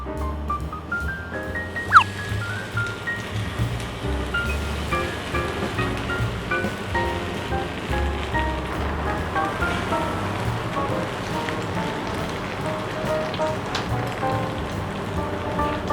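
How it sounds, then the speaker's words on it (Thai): Takoyaki batter poured into a hot Shimono EMC-7700 takoyaki pan sizzles with a steady, rain-like crackle that runs throughout, with music playing in the background. "ได้เจ้าตัวแป้งแล้ว ทึบ ขออนุญาตเทใส่เลยนะครับ"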